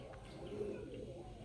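Giribaz pigeons coo in a soft, low, continuous murmur, fairly faint and close, with no other clear sounds over it.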